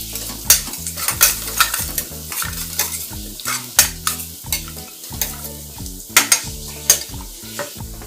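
A spoon scrapes and stirs drumstick khichdi with garam masala in a pan, with rhythmic clacks and scrapes over a low sizzle and no voices.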